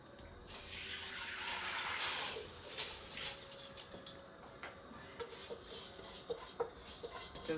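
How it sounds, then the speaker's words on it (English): Soaked rice being strained, water rushing out at first and then trickling and dripping irregularly as it drains, quiet and close. "we need to strain the rice that we've been soaking."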